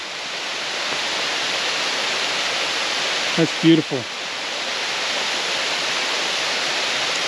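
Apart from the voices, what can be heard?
waterfall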